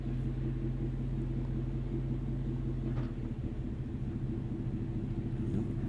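A car sits parked and idling right beside someone at Honolulu airport, giving off a constant low, droning rumble with a faint engine hum. There are no breaks and no talk.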